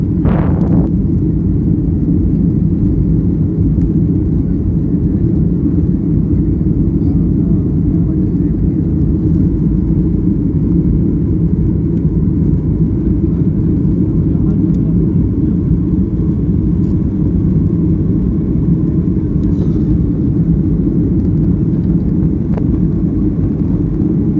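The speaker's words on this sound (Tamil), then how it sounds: "இப்போ ஃப்ளைட்டு டேக் ஆஃப் ஆகுது பாருங்கள், டேக் ஆஃப் டைம் தான்." An Oman Air passenger jet taking off from Dubai, heard from inside the cabin as a loud, steady engine roar and rumble that holds constant throughout.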